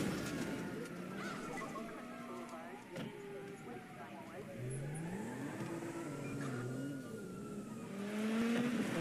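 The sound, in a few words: car racing in the video game Dirt 5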